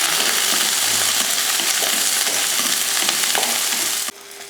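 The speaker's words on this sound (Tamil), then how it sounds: "சேர்த்துட்டு கொஞ்சம் எண்ணெய் ஊற்றி இதை வதக்கிடலாம்." Shallots, garlic and ginger sautéing in oil in a pan for a Tamil mutton kulambu, a steady close sizzle with light stirring scrapes that runs throughout, then drops abruptly quieter near the end.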